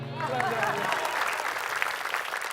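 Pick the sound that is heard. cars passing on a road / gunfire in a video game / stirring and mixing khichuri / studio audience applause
studio audience applause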